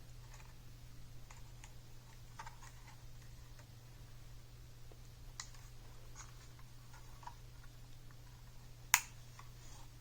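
A DJI Mavic Mini propeller guard lock snaps into place with one sharp, close click standing out against a faint hum and scattered light handling taps.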